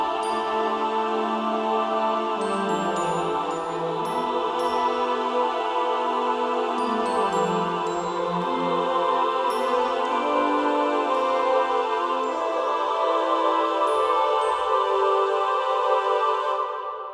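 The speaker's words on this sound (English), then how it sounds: "the epic choir combo, where we have cluster chords in here" Epic choir singing sustained cluster chords, a dense wash of overlapping voices held steadily throughout with shifting inner notes, full and loud with no speech.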